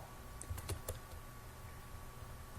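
Someone types an email address on a computer keyboard, a brief burst of a few quick, close key clicks in the first second, then near silence apart from a faint background hum.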